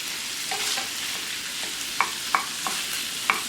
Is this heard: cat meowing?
no